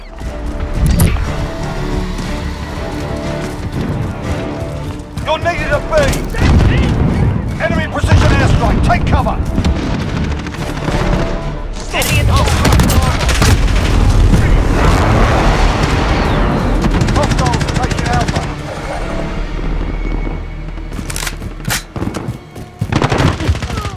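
Multiplayer combat in Call of Duty Modern Warfare, with loud booming gunfire and explosions that come in dense bursts and brief lulls, and voices calling out now and then among the shots.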